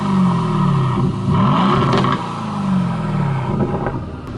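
Supercar exhaust revving hard twice inside a huge shopping mall, loud and close, the engine note rising and falling with a burbling gurgle as it settles, no talking.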